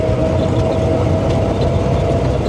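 A 1927 Ford Model T engine runs steadily with its throttle brought down, a loud, close, low rumbling idle with a constant hum and no talk.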